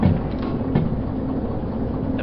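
A freight train in the Derail Valley railroad simulator game rolls steadily along the rails toward a harbor, giving a low, even rumble with faint wheel clatter at moderate volume and no voices.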